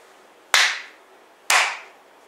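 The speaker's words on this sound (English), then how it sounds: "Clap your hands twice." Two sharp, separate hand claps at a Japanese shrine, evenly spaced about a second apart, each a crisp close slap with a short decaying tail over quiet background.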